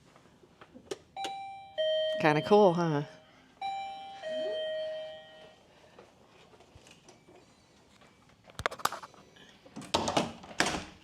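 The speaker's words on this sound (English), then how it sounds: "Oh, and it's got a doorbell." An electronic hotel room doorbell in Bangkok chimes twice indoors, bright ding-dong tones ringing out clearly, followed by a person speaking and some rustling and clicking.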